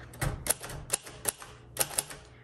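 A 1958 Royal Aristocrat manual typewriter types close by, giving a quick irregular run of sharp key strikes with crisp metallic clacks and no talking.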